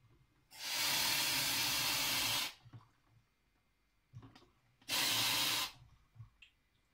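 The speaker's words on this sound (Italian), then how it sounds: "scaldiamo il gruppo, facciamo passare l'acqua attraverso il gruppo." Hot water flushes through the group of a La Pavoni PRH espresso machine in two strong, steady hissing bursts, the first about two seconds long and the second shorter. Faint clicks and handling noises fill the quiet gaps between them.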